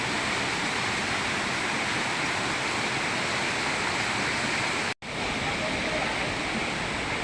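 Ditumabo Mother Falls in San Luis, Aurora roars as a steady, dense wash of falling water, continuous and fairly distant, with one brief dropout partway through.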